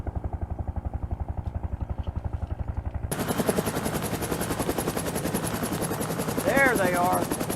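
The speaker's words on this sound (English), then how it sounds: "Chopper's inbound" Movie sound effect of a military helicopter approaching, rotor chop thudding steadily, then swelling louder and broader as it nears, with rattling noise and brief whistling tones near the end; loud and continuous.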